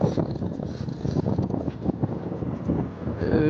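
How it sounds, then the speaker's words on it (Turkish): Strong wind buffets the microphone in a continuous rough roar at an outdoor pistachio orchard site, gusting louder and softer throughout with no other clear sounds. "rüzgar çok var arkadaşlar. Oldukça rüzgar var."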